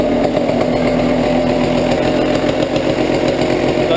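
A motorcycle engine runs at a steady, loud idle during a stator voltage test, a continuous close-up buzzing drone with no talking.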